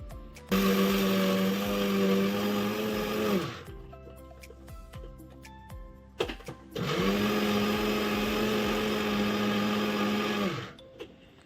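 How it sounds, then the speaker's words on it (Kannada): A kitchen mixer grinder whirs loudly while grinding roasted gram and jaggery into powder. It runs in two long bursts separated by a pause with small clicks and rattles. "ಇದನ್ನು ಪಟಾಪಟ ಮಿಕ್ಸಿಗೆ ಹಾಕೊಂಡ್ಬಿಡ್ತೀನಿ ರೀ"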